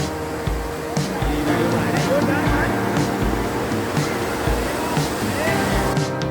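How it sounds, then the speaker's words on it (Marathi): Loud, continuous rushing water roars steadily from the overflowing Dhekale dam in Palghar during rain, with a low rumble underneath and no clear voices. "हा धबधबा आहे, काय बोलतात त्याला, डॅम।"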